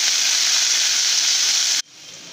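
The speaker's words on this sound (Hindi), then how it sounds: "इस टाइम पर हम इसमें ऐड कर देंगे ग्रीन पीस, और इनको भी अच्छे से हिला के हम रोस्ट कर लेंगे" Green peas and browning onions sizzling in a hot pan, a loud, even frying hiss that cuts off abruptly near the end, leaving a quieter background.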